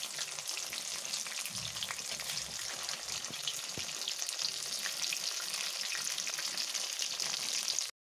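Sabudana vadas sizzle steadily in hot oil, a loud continuous frying hiss with light scraping and stirring as they are turned in the pan, the sound cutting off abruptly at the end.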